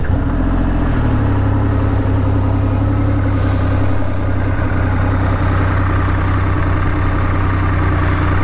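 A Triumph Rocket 3 motorcycle idles close by, its big engine giving a loud, deep, steady rumble with an even pulsing throb throughout, and no voices.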